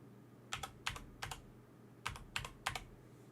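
Keystrokes on a computer keyboard as a password is typed, with two quick bursts of three clicks each separated by a pause, close and fairly quiet, no talking.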